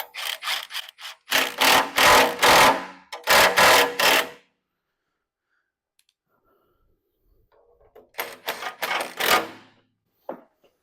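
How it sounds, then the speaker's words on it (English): An impact wrench running in 24 millimeter bolts: three loud, rattling hammering bursts of a second or two each, separated by silence, with a longer quiet gap before the last burst. "we're going to run it in with the impact first"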